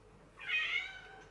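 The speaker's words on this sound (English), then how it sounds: "Sorry about my cat making lots of noise." A single drawn-out cat meow indoors, close and fairly loud, rising and fading within about a second over quiet room noise.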